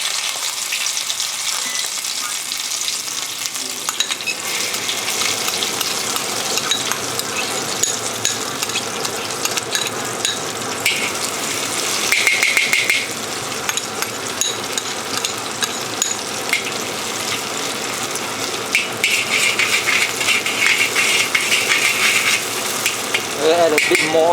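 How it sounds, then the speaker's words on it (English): Chili paste frying in oil in a wok for char kway teow, a steady broadband sizzle crackling throughout, loud and close, with occasional clinks of a utensil against the pan. "Fry the chili paste, which is here."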